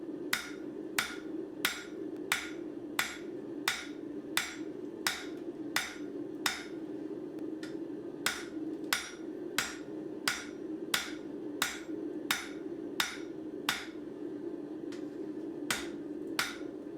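A hammer strikes hot steel on an anvil while forging blacksmith tongs, ringing blows in a steady, even rhythm of roughly one per second, close and sharp, over a low steady hum from the forge.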